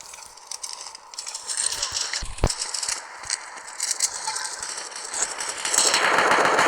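Rapid gunfire from an online shooter game rings out in quick bursts with a sharp louder shot near the middle, over dense game noise that grows fuller toward the end.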